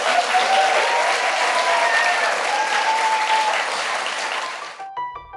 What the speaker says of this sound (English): Now you can applaud now.